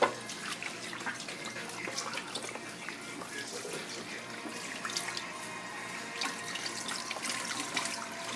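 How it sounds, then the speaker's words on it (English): Cool tap water runs steadily over a beef brisket as it is rinsed in a sink, a close, continuous splashing stream with irregular spatters throughout. "Rinsing it out with cool water."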